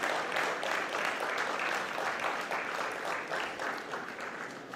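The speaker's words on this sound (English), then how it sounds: "can we have a huge round of applause for all the Central Council members?" Steady applause from a conference audience for council members on stage, a continuous wash of clapping at moderate, even level.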